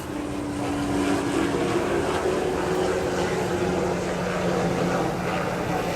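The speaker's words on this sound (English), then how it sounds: "sorry about that noise, helicopter." A constant low engine drone with a faint tonal hum hangs in the background throughout, from a helicopter passing overhead at a distance.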